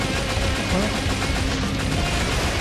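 Dense gunfire in the Metal Slug Awakening game, a continuous loud rattle of rapid shots and blasts packed together under other game sounds, with a voice talking over it throughout.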